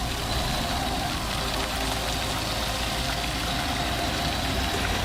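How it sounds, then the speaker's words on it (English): A high-horsepower bulldozer diesel engine runs steadily at close range, a dense, continuous rumble with a knocking, idling texture and no pauses or voices. "the high horsepower diesel engine delivers relentless torque"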